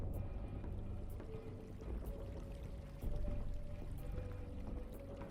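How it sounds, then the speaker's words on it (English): Gentle water trickling and pouring like a babbling brook, a steady faint wash of liquid sound running continuously with no voices, set as ambient background for a WW2 tabletop roleplaying scene. "You hear that water trickle."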